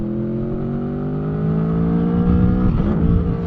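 A 2021 Aprilia Tuono 1100 Factory motorcycle accelerating hard in fourth gear from about 5,000 RPM, its engine note rising steadily and loud up close, with a brief wobble near the gear change at the end.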